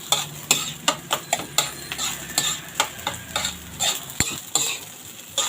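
Egg fried rice seasoned with pepper, salt and a little Knorr seasoning being stirred in a pan, a steady sizzle broken by sharp, regular scrapes and taps of the utensil against the pan, close and fairly loud.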